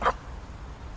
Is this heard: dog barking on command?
yes